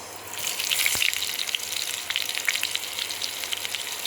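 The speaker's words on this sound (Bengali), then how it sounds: "আমি এখানে 1 কাপের মতো পেঁয়াজ দিয়ে দিয়েছি। পেঁয়াজটা একটু ভেজে নেব।" About a cup of onions fries in hot oil, a steady crackling sizzle close up with fine spitting pops, continuous and fairly soft with no voices.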